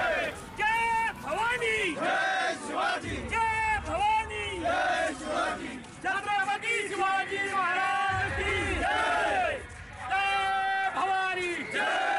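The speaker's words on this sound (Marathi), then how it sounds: "जय जवान जय किसान अशा देशभक्तीपर घोषणा देत नागरिकांनी मोठ्या उत्साहात सहभाग नोंदवला" Crowd of citizens and activists in a street rally chanting the patriotic slogan Jai Jawan Jai Kisan, loud, close, rhythmic call-and-response shouts in many voices with brief pauses between chants.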